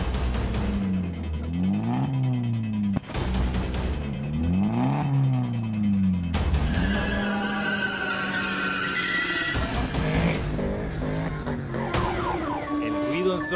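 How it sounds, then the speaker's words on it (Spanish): A very loud car exhaust revs repeatedly on a highway, engine pitch sweeping up and down in bursts, setting off several parked cars' alarms that wail in the background. "El ruido ensordecedor de este tubo de escape hace sonar las alarmas de varios de los autos"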